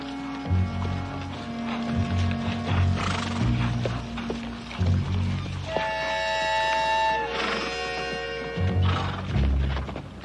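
Horse hooves clop along steadily in a western TV episode under a low rumbling backdrop, joined midway by bright sustained tones, with no voices.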